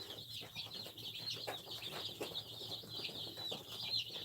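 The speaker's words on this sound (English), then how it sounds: "Jenny, these are called Rhode Island Red chickens" Rhode Island Red chicks on a farm cheeping and clucking steadily, bright high peeping calls repeating close by over a low hum.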